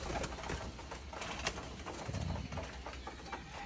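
Hobby pigeons coo softly in a loft, a low muffled cooing that swells briefly in the middle, partly buried under steady background noise.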